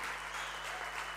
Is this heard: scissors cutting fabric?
no